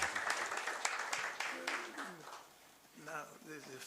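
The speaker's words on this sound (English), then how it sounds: "Let's keep clapping as we encourage you." Audience clapping at the Zimbabwe Revenue Authority's 9th annual general meeting, moderate and uneven, fading midway and swelling again near the end while voices talk over it.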